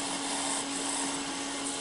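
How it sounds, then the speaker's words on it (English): A vacuum cleaner drones steadily in a woodturning workshop, a constant loud whine with a steady hum underneath and no break. "you can hear the vacuum in the background"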